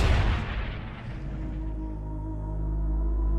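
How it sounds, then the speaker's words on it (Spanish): A battleship's bow guns fire a salvo in a World War II naval battle: a loud, heavy blast opens the clip, then a deep rumbling boom that lingers and rolls on for a few seconds. "la artillería de proa dispara la salva final"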